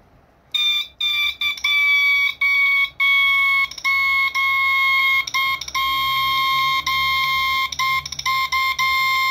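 A Desi alarm system sounds loudly and nearby: a steady electronic siren tone, repeatedly interrupted by short dropouts, with no talking over it.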